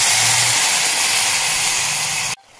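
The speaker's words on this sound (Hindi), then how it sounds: "अब हम इसमें डालेंगे अपनी प्योरी।" Puree poured into a pan of frying onions and tomatoes sets off a loud, steady broadband sizzle that hisses on for a couple of seconds, then cuts off abruptly near the end.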